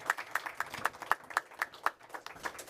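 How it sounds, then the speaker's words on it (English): Scattered, sparse clapping from a small audience at a town committee candidates' forum, a handful of distinct claps in loose irregular rhythm, fairly faint and with no talking over it. "A big round of applause for our candidates."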